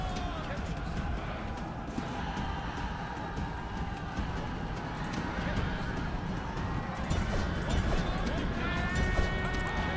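Cavalry horses clash with camels in a Rome: Total War battle, producing a dense, continuous din of hooves and galloping with occasional whinnies buried in steady battle noise, while a voice talks over it throughout.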